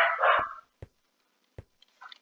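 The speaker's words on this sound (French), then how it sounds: "Il veut pas se taire mon chien." A pet dog barks insistently: one loud, close bark, then two sharp single barks about a second apart, followed by softer yips.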